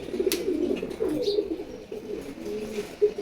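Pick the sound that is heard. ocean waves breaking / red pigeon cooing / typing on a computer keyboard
red pigeon cooing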